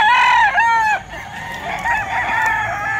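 Roosters crow at a Bocaue, Bulacan pet market before dawn, several long, loud, close crows overlapping one another with clucking fowl in a busy background.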